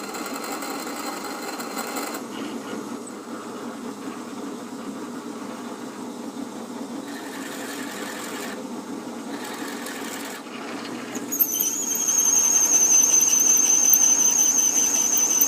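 A drill press motor hums steadily with a mechanical whir, then the pitch shifts and a thin high squeal joins in as the bit bores into wood.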